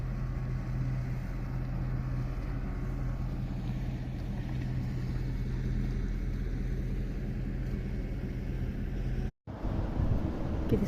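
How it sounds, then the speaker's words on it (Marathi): A motorboat running along the seashore, a steady low engine drone with wind noise across the whole stretch and a brief dropout near the end. "एक चालत आली होडी"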